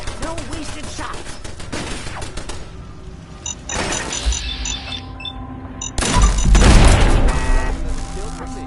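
Gunfire in Fallout 4, sharp shots and heavier booms in clusters, loudest near the end, with game music and effects around them and a player talking between bursts.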